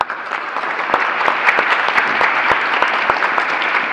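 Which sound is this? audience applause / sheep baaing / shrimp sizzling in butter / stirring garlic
audience applause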